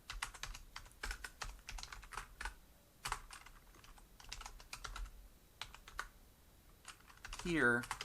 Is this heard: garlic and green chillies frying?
no